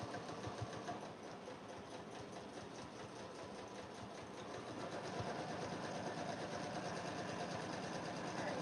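A sewing machine stitches the bottom seam of a canvas tote with coordinating thread, giving a close, steady mechanical whir that runs throughout and grows slightly louder partway through, with no talking.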